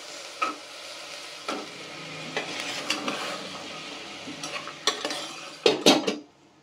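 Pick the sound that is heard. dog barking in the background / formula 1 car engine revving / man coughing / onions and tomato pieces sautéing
onions and tomato pieces sautéing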